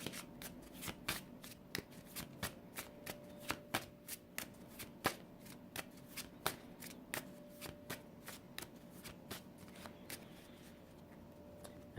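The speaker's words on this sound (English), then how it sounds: "For setup, you just shuffle up your cards" A deck of game cards for the card game Pass is shuffled in a quick series of crisp riffling snaps and taps, fairly quiet and close, with no talking.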